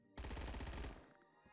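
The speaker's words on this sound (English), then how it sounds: "Oh, please don't shoot me through the walls." A single loud, close burst of automatic gunfire in the Roblox shooter Phantom Forces, roughly a second of rapid shots that ends abruptly and leaves a quiet tail.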